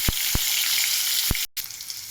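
Raw green banana and potato pieces frying in a pan, a loud, even sizzle with a few sharp knocks of a utensil and a short break partway through.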